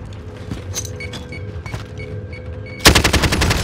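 Rapid gunfire erupts in the Warzone video game: scattered clicks and mechanical taps lead into a loud close burst of automatic shots in the final second.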